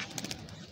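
A pigeon coos briefly at close range in soft, low, throaty pulses against a faint background.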